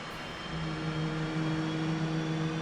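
F/A-18C jet engine idling in DCS World, a steady low hum with a constant whine, even and moderately loud without variation.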